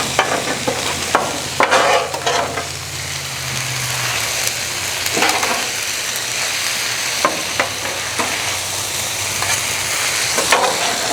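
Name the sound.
mushrooms frying on a Blackstone griddle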